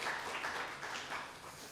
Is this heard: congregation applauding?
yes